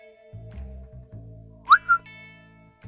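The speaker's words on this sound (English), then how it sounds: "A whistle rang out from the living room" A short two-note whistle from a person rises sharply over a low steady hum, the second note a brief held tone, fairly close and clear.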